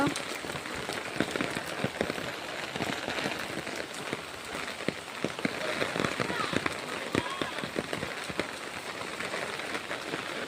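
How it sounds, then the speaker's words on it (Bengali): Heavy rain pours steadily, a dense continuous hiss with scattered sharper drops hitting nearby surfaces throughout. "দেখতে পাচ্ছ কি বৃষ্টি হচ্ছে"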